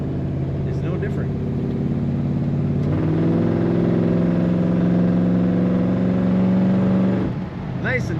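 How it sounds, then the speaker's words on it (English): A 1971 Chevrolet Nova drives along with a low, throaty exhaust rumble that swells into a stronger, steady engine drone midway, then eases off near the end, close and fairly loud. "Nice and torquey. Lovely throaty exhaust sound."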